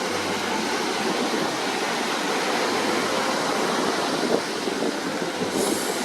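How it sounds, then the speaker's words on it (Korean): Rain falls at Gwangalli beach with ocean waves surging behind it, a constant, dense roar of hiss and wash that stays even throughout, with no talking. "비를 피하면서 파도 소리 듣고 있는 거"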